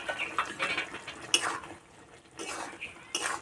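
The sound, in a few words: stirring cauliflower curry in a cooking pan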